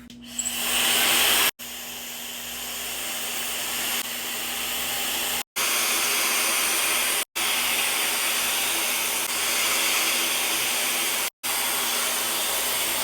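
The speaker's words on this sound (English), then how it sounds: "This is just blow drying." A Tymo Airhype hair tool blow-drying 4C hair gives a loud, steady airy roar up close, switching off briefly several times and resuming at the same level, with no talk.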